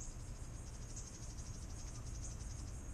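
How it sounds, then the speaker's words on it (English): Honeybees buzzing around ripe figs make a steady, continuous insect drone with a thin, high shimmer layered over a low hum. The sound holds at a fairly even, moderate level throughout, with no talking. "I guess they're honeybees."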